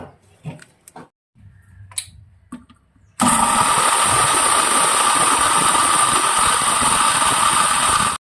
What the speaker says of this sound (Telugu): మిక్సీ పెడదాం.